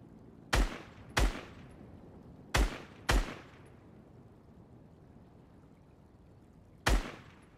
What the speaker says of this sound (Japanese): やっぱり別の島の敵をスカーで撃つのは至難の技だぜ